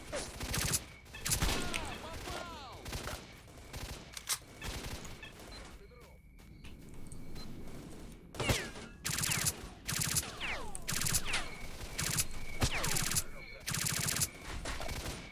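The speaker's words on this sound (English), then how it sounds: "What's all these bullets impacting next to me?" Gunfire in STALKER: Shadow of Chernobyl, with rapid bursts and cracking bullet impacts close by, repeated over a long stretch with brief lulls and occasional faint voice.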